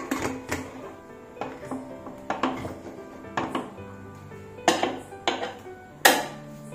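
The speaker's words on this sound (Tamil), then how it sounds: "இப்ப நம்ம வந்து இதை மூடிடலாம்." A lid is set onto a cooking pot of milk for a traditional South Indian sweet, making several sharp metallic clanks and taps in an irregular series, close and fairly quiet.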